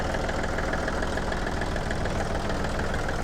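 A Yanmar EF393T 39-horsepower tractor diesel engine idles steadily, with a constant rough knocking rumble that stays close and loud throughout, no voices.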